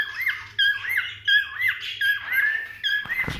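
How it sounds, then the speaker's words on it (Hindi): A pet cockatiel squawks close by in a run of about eight sharp, rising calls at a quick, uneven rhythm, with nothing else audible around it. "कॉकटेल बोल रहा है"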